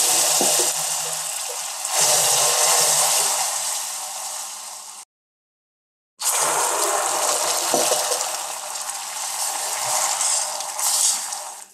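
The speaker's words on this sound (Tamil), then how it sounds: "இப்போ இதில் கொஞ்சம் தண்ணி சேர்த்துக்கலாம்." Half a cup of water is poured a little at a time into hot caramelized sugar syrup for a Christmas cake, making a loud hissing, bubbling gush in two bursts separated by a short silence.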